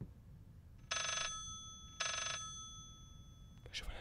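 Telephone bell ringing in the horror video game Layers of Fear: two long electronic rings with a pause between them, loud and clear above a low ambient background, followed by a brief clatter.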